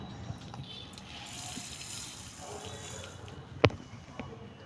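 A measured ingredient is poured from a container onto raw mango for a sweet pickle, a soft steady trickle with a sharp clink midway, close by.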